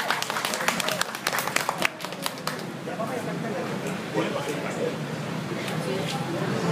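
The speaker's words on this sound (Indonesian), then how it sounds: "Boleh berikan tepuk tangan" An audience at a hotel concert claps and applauds, a burst of scattered claps that thins into a steady crowd murmur with voices talking over it.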